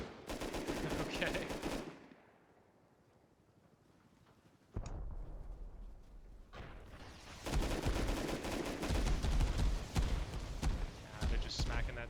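Rapid bursts of gunfire and rocket blasts in a base-defence video game, loud volleys cutting out to a quiet gap before a sharp hit and renewed sustained firing.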